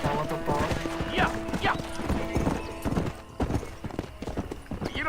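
A horse gallops in the Red Dead Redemption video game: fast, steady hoofbeats close up, with a brief whinny, while voices talk over them.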